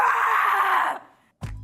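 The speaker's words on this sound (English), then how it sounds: "Screams that come from a place of anger call for a clenched mouth and tighter body position" An angry scream, harsh and strained, held loud for about a second before trailing off, followed by a brief low thump after a moment of quiet.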